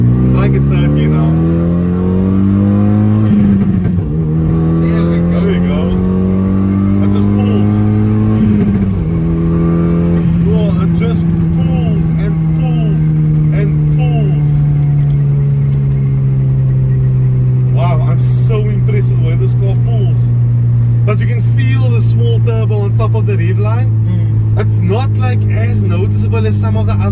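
A Renault Megane R.S 225 engine pulls hard through second gear and shifts toward third, its pitch climbing then dropping at each change, loud and steady under someone talking throughout.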